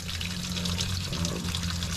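Water rushes through the cooling system of a 2006 Dodge Ram 1500 with a 4.7L engine during a radiator replacement and full flush. It makes a steady, continuous hiss over a low, constant hum.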